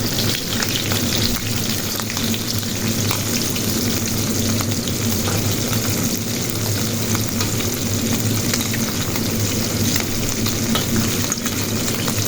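Bessara frying in a pan, a loud continuous sizzle running throughout with faint scraping of stirring mixed in, steady and close without talk.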